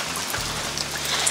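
Steady rain falls outdoors onto a swale dug to catch water, a dense, even hiss of drops throughout with a faint low rumble underneath and no talking.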